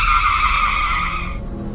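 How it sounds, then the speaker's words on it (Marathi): A skidding sound effect for an auto-rickshaw stopping abruptly: a loud, sustained tire squeal that holds, then cuts off sharply near the end. "त्यावेळेला ती रिक्षा स्वतःहून थांबली"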